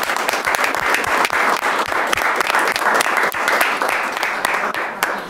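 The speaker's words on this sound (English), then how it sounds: "Let's give a round of applause." A dense, steady round of applause from a large audience, loud and sustained throughout, with many hands clapping at once.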